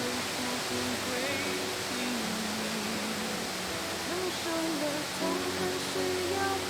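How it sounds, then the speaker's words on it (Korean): A mountain stream and waterfalls rush through a valley, giving a steady broadband wash of falling water close by, with a faint voice in the background. "대숲의 바람과 계곡의 물소리를 벗삼아 계속 골짜기를 따라 오르다 보면 크고 작은 4개의 폭포와 마주한다."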